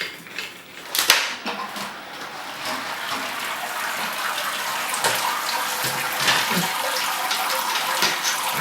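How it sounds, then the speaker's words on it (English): Wort drains from a lifted Grainfather mash basket, a continuous close splashing gush of liquid pouring back into the vessel, with a brief louder burst near the start. "There's some draining going on."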